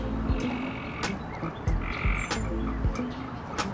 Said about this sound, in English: I think I'm being attacked by frogs.